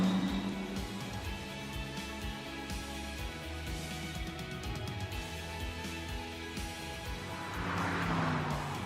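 A BMW V8 car engine in The Grand Tour video game drones steadily throughout with layered harmonic tones, swelling louder near the end as the revs climb.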